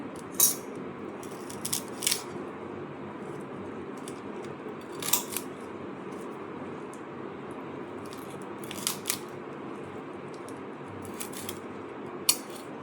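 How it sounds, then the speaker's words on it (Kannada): Food being cut into pieces, with a handful of crisp, sharp cutting snaps at irregular intervals over a quiet, steady background. "ಮತ್ತು ನೋಡಿ ಈ ರೀತಿಯಾಗಿ ಕಟ್ ಮಾಡ್ತಾ ಬರ್ತೀವಿ"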